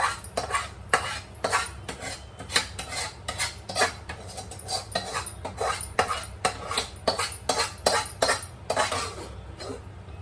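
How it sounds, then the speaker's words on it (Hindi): A metal spoon scrapes and clanks against a metal pressure cooker while stirring masala for chole, in a steady rapid rhythm, close and fairly loud, with no talking. "कुकर में ही डाल दूंगी मसाला।"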